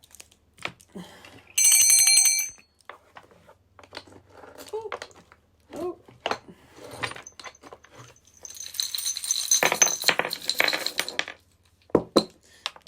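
A small pink bell, the kind hung on a pet collar, gives a bright sustained ring early on and again in a longer jingling burst later, with scattered handling clicks and talk in between.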